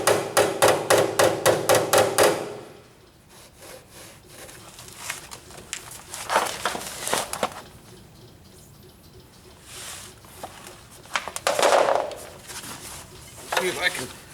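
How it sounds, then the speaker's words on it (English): Small hammers tap rapidly on the metal rocker panel of a 1998 Ford Ranger 4x4, a sharp burst of clinks, then scattered lighter taps and knocks with pauses between. "these little hammers"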